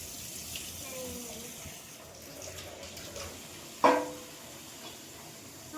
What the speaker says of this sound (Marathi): भांडे घासतो. छान घासा.